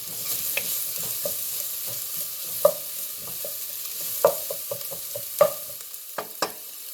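Garlic frying in a pan over low-medium heat gives a steady soft sizzle, broken by recurring clicks and scrapes of a utensil stirring, with a few louder taps against the pan.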